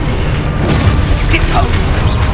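An Exposo spell blast in Hogwarts Legacy combat, a loud low boom rolling under dense, continuous battle noise with brief brighter crackles, and a voice speaking over it.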